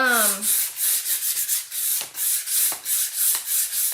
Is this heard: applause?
no